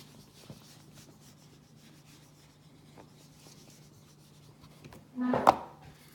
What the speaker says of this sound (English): Let me erase the board.